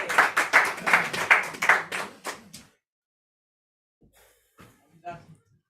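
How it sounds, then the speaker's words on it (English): Audience applause at a poetry reading fills the room for about two and a half seconds, dense and close, then stops abruptly, leaving silence and a few faint shuffles and knocks. "Round of applause for JJF."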